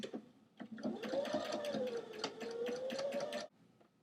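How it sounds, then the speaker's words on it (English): Sewing machine stitching lace into the shoulder seam of a T-shirt, a steady, fast mechanical whirr with rapid needle ticks running for about three seconds before stopping; close and moderately quiet. "I'm going to sew right in the shoulder seam so you won't notice it."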